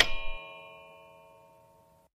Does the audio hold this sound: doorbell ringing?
yes